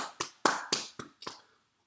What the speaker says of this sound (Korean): 자, 여러분 박수 한번 주세요.